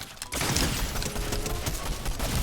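Rapid automatic gunfire in a shooter video game, a dense continuous burst of shots filling nearly the whole stretch after a brief quiet opening, loud and close.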